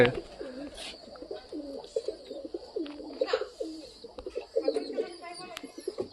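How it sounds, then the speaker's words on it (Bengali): Pigeons coo in a steady, repeated rolling rhythm, fairly close, with faint background hiss and occasional other bird sounds. "দেখলে তো তারক ভাই সুন্দর সুন্দর পায়রা তুলেছে"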